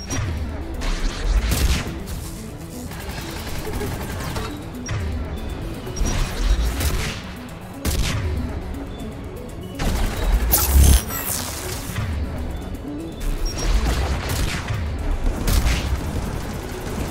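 Turret gunfire in the video game Mass Effect 3, heavy booming shots and impacts recurring every second or two amid battle noise, fairly loud and close.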